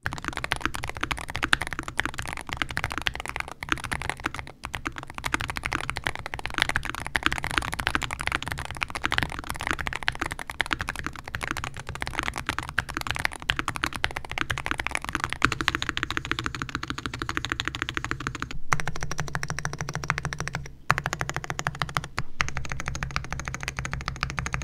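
Continuous, rapid typing on a lubed Meletrix BOOG75 Hall Effect keyboard with dense clicking keystrokes, close and clear, pausing briefly a few times.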